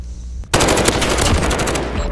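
Rapid automatic gunfire from a weapon in the video game Modern Warfare, a loud sustained burst of closely spaced shots beginning abruptly after a brief quiet moment and continuing steadily to the end.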